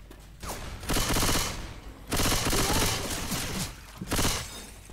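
Rapid bursts of gunfire from the zombie shooter game Left 4 Dead, three dense volleys of automatic fire separated by short pauses, loud and close.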